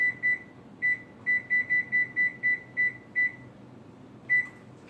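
Oven control panel being set to bake at 400 degrees gives a series of short, clear electronic beeps, mostly in an irregular quick run with a final lone beep, over a low background hum.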